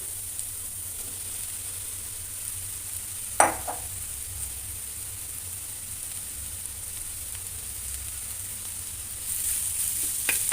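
Potatoes added to vegetables already sizzling in a pan, a soft steady frying hiss with one sharp clatter early on and a rise in sizzle near the end, no talk.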